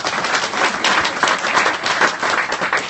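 A room full of people at a live health-policy conversation event applauding, loud and continuous clapping throughout.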